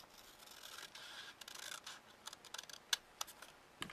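Scissors snip through a paper template in a few quiet, scattered cuts, with light rustling of the paper between them.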